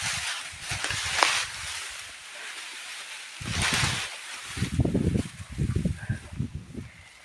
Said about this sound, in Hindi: यहाँ पर हवा बहुत तेज़ होती है।